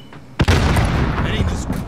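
A grenade detonates in Call of Duty with a sharp close blast, then a rumbling, noisy tail of debris and ambient battle sound that lingers.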